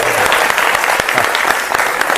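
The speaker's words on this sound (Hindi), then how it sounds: "अरे एक बार जोर से ताली बजाइए।" Loud audience clapping at a Hindi-language political gathering, a dense steady patter of many hands filling the whole stretch with no break.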